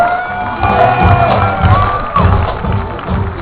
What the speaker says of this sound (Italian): e poi facciamo un applauso per Gunther